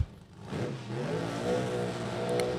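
A drag racing car's engine revs hard at the start line of a raceway, a loud sustained roar that climbs and holds steady at high RPM after a brief dip, close and alone with no voices.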